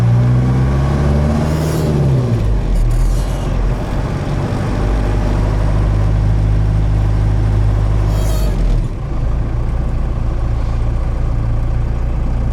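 A Ford F150 fitted with a 4BT Cummins diesel engine drives at light throttle, its low, steady engine drone filling the cab, with a brief shift in pitch early on and no talking.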